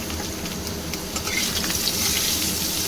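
Chopped papaya drops into potatoes frying in oil in a pan, giving a dense, continuous hiss of sizzling that swells slightly partway through and stays loud throughout.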